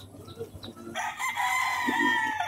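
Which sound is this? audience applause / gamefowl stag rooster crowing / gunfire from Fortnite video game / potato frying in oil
gamefowl stag rooster crowing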